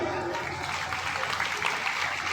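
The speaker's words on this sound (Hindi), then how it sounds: "एक बार जोरदार तालियां।" Applause at a rural gurukul and cow-shelter religious gathering, a dense, even patter of many hands clapping, fairly faint and distant, lasting the whole moment.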